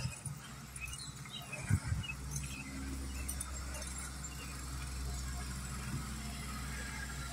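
An empty Whitfield County transit bus sits parked with its engine idling, giving a steady low rumbling drone with a faint mechanical knock near the start.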